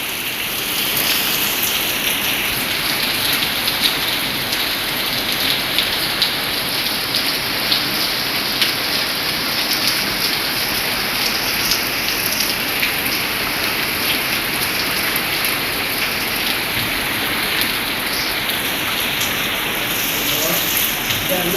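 Steady, heavy rain falls in Lahore, a dense continuous patter of drops on surfaces that stays loud and even from start to finish, with no talk.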